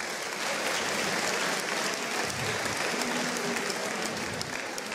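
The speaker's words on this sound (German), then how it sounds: "Aber merkt ihr, wie sanft die klatschen?" Audience applause at a live comedy show, a steady, dense wash of clapping from a crowd that holds at an even level for the whole stretch without any talk over it.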